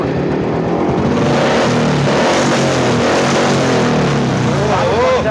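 A motorcycle engine at a second-hand bike showroom revs loudly and continuously, with rising and falling pitch sweeps toward the end and a voice faintly underneath.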